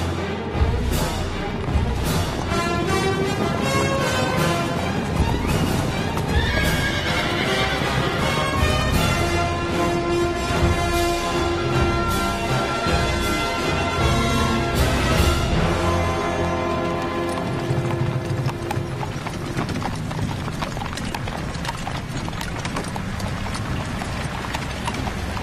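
Horse hooves clip-clopping steadily through a loud, dense action-film scene in a war setting, with music and effects layered over the hoofbeats the whole way; no clear whinny stands out.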